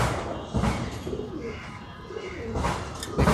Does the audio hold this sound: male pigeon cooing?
yes